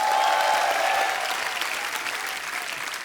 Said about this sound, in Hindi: तालियां हमारे करण सर के लिए